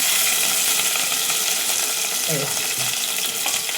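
Cumin, mustard seeds, green chillies and onions fry in a hot pan with a loud, continuous close sizzle, and a spoon briefly stirs and scrapes midway.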